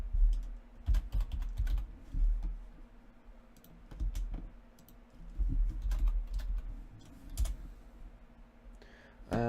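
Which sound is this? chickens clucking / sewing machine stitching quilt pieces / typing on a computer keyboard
typing on a computer keyboard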